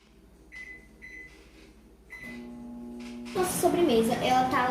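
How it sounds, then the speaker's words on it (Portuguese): A microwave oven hums steadily while a chocolate brigadeiro dessert cooks inside, with a few short beeps near the start. A voice speaks over the hum, and louder kitchen clatter and talk take over toward the end. "Nossa sobremesa, ela tá lá no micro-ondas."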